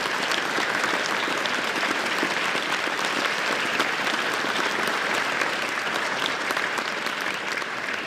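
A large audience applauds award nominees at the 2023 South Australia Australian of the Year Awards, a dense, steady round of clapping that holds at an even level for about eight seconds with no talk over it.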